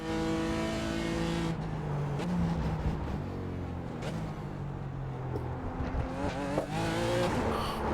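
A BMW M4 GT4 race car in iRacing at Laguna Seca runs over a curb, its engine droning steadily and loud throughout with brief bumps and jolts as the wheels ride the kerb, with no break in the sound.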